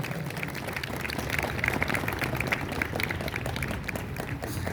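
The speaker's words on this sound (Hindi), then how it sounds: "चलिए सर का स्वागत करते हैं तालियों के साथ" Audience clapping steadily to welcome the chief guest at a Republic Day celebration, a dense, continuous patter of many hands that holds at an even level throughout.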